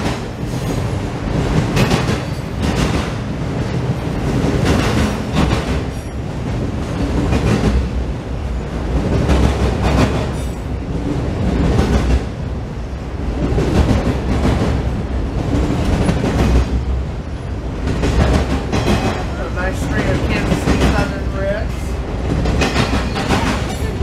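A train rolls past close by on the CSX line in Cordele, a loud, continuous rumble with rhythmic clickety-clack of wheels over rail joints and occasional faint squeal.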